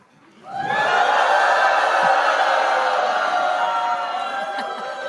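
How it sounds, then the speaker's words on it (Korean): A crowd at a Reform Party rally for South Korea's 21st presidential election roars and cheers, swelling quickly into a loud, sustained wall of shouting and whooping that holds steady before easing slightly. "여러분이 큰 함성으로 앞에 있는 피켓을 흔들어 주십시오"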